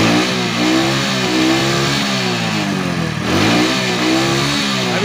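An LPG-converted motorcycle engine revs steadily after a carburettor adjustment, loud and close, with a continuous droning tone that dips and climbs through repeated throttle swells without misfiring.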